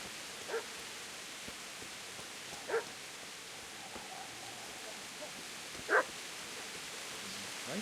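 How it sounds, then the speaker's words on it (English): A dog barks a few times in a 15th-century Bohemian peasant village in Kingdom Come: Deliverance. The single barks come at scattered moments, faint and distant, over a steady outdoor ambient hiss, and no one talks. "I'm hearing dog."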